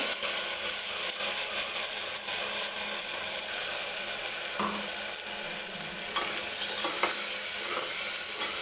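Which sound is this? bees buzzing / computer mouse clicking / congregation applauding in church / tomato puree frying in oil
tomato puree frying in oil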